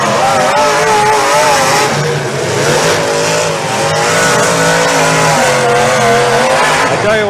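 Demolition derby cars rev their engines hard in a loud, continuous roar with wavering pitch and tire squeals, the racket sustained throughout with no quieter gaps.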